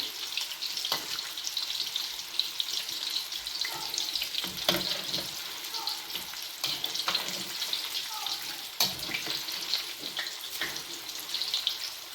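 Pastel dough frying in hot oil gives a continuous, close crackle and sizzle, with a few louder pops and scrapes mixed in.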